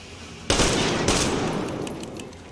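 Gunfire in the video game Morning Dark: a loud burst of rapid shots starts suddenly, another sharp report follows, then the noise fades into a ringing tail.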